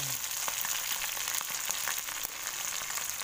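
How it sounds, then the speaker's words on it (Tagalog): Grasshoppers crackle and hiss in a pan of boiling oil, a steady bright sizzle with scattered pops throughout, close and fairly loud with no talking. "Lilipat na natin siya guys dito sa ating kumukulong mantika."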